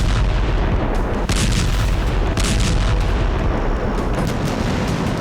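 A massive mushroom-cloud blast, reported as a possible atomic bomb in the Israel–Hamas conflict, plays back as a loud, continuous rumbling roar with sharp cracks and booms throughout.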